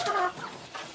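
Desi hens and roosters on a small Golden Misri poultry farm cluck nearby, a short close burst of fowl calls fading into quiet.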